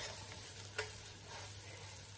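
Rice grains being fried and stirred in a pan with onion paste for egg biryani, a steady low sizzle with a brief scraping stir near the middle, no talk.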